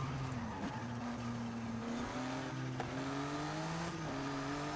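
A car engine in Forza Horizon 5 drones steadily and rises in pitch as it accelerates, with gear shifts breaking the climb, continuous and fairly quiet.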